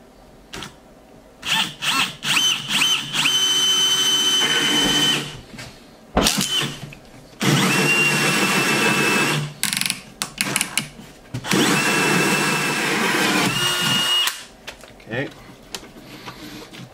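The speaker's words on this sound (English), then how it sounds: "Now we're gonna drill our hole for this." A power drill bores a hole next to a solar battery bank in several long, whining bursts. Short pauses fall between them, and a person talks between and over the drilling.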